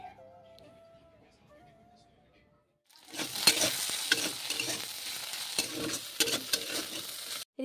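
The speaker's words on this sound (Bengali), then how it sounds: "ওইদিকে ভাজা করছি, তিত করলা ভাজা" Bitter gourd fries in a pan with a steady close sizzle and crackle, broken by scrapes and clacks of stirring, after a few quieter seconds at the start.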